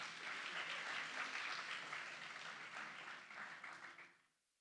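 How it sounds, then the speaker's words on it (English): A crowd of students and guests at an evening stage event claps in a dense, lively round of applause that holds steady, then tapers off and fades to near silence just before the end. "Applause, guys."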